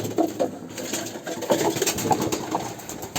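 Pigeons coo in a pigeon house, soft repeated throaty calls from several birds close by, overlapping in an uneven rhythm throughout.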